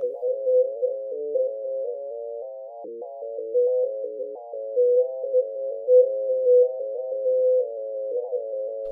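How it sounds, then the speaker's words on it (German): Warbling FM synthesizer tones, controlled by moving a smartphone, hover around one pitch, wobbling and bending continuously with small swells in volume, clean and electronic with no background noise. "beginnen, unseren kleinen Synthesizer zu spielen, indem Sie das Smartphone bewegen"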